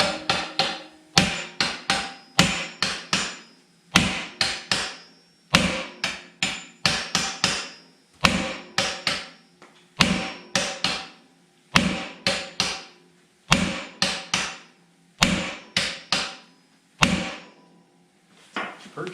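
A sledgehammer strikes the tight front spring perches on a 1931 Model A hot rod: about two dozen sharp metallic blows in loose clusters of two or three, loud and close, with short ringing tails and quiet gaps between.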